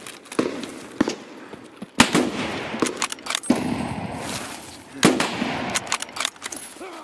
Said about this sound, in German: Ich bin im Kampf, was soll ich denn sagen? Ich schieße.